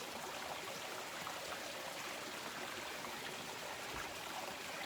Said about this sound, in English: So I'll just pour that into this glass.